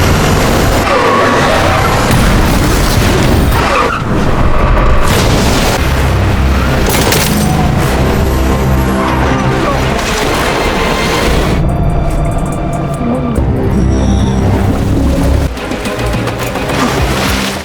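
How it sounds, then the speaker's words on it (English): A car rammed off a bridge in a Mission: Impossible film, with loud crashing booms, skidding and impacts over a dense, continuous action-movie soundtrack. "the car containing Lane is simply rammed off the bridge and hijacked by Benji and Luther"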